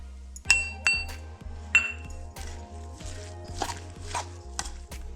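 Spoon clinking and scraping against a bowl while sweetcorn fritter batter with coriander, salt and red chili powder is stirred, a few sharp ringing taps over steady mixing and a low background hum.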